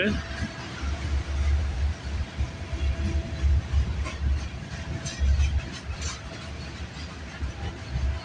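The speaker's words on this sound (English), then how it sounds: "This train just came out of Aldershot. It's heading towards the McMillan Yard in Toronto, Ontario." A CN freight train, number 570, rolls past in Milton, Ontario, bound from Aldershot toward MacMillan Yard in Toronto, with a steady, loud rumble of wagons and faint rhythmic wheel clatter throughout.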